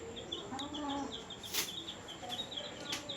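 Pet hens clucking at home, a series of soft short clucks and chirpy calls scattered across the moment, fairly quiet and close, with a few brief sharp sounds between them.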